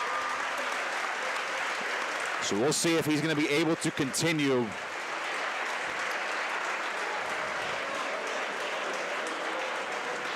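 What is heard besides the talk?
applause from both sets of wrestling fans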